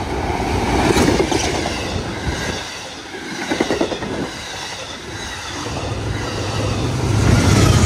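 Passenger train 688 speeds along the Lowell line toward North Station, a loud rushing roar with rhythmic clickety-clack and swelling wheel noise as cars pass close by.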